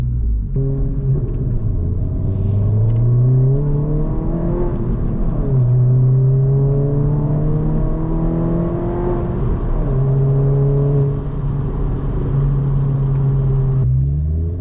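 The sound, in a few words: modded 2022 Honda Civic Si engine and exhaust burble while driving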